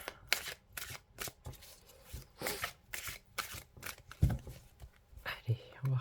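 Tarot cards are handled and shuffled close by in soft, quick bursts of papery riffling and flicks, mixed with quiet whispery talk.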